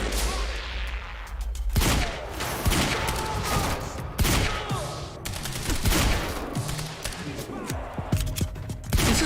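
Rapid pistol gunfire from a Quantum Break firefight, with repeated sharp shots and bursts of loud, close impacts layered over dense combat noise and a rumbling game soundscape throughout.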